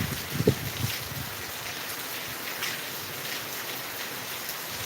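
Steady rain falls outdoors during a red-alert downpour in Latur, a continuous broadband hiss with a few brief knocks near the start, moderately faint and with no voices.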